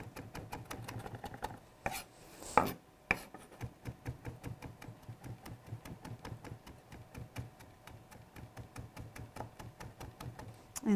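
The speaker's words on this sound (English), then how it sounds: "thin slivers of sage. And then go ahead and do a nice rough chop on it." A knife rough-chops sage leaves on a cutting board, a steady run of quick, even taps close by, with a few louder knocks in the first seconds and no voice.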